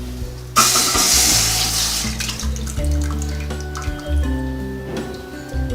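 Vada curry gravy poured from a pressure cooker into a pan, a steady liquid pour and splashing hiss starting after a brief pause, close and continuous with clunks of the vessel.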